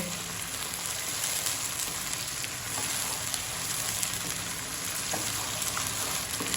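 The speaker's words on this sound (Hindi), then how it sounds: "अदरक लहसुन के पेस्ट को भी हम हाफ मिनट देंगे, अच्छी तरह से इसमें फ्राई करेंगे" Ginger garlic paste frying in hot oil, giving a dense, steady sizzle that stays even and close throughout with occasional small pops.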